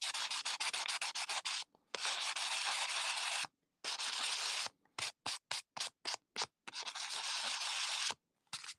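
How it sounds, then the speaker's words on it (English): Close, quiet rubbing of 600 grit sandpaper lightly buffing a textured ginkgo earring, long strokes at first, then a quick run of short scratchy passes with brief pauses between them. "this is the 600 grit sandpaper, and I can lightly buff it"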